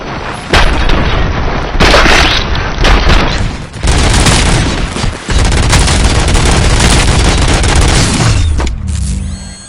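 Heavy gunfire from the video game Robocop Rogue City, sustained loud bursts of shots and booming impacts filling the scene almost continuously, with brief gaps before cutting off near the end.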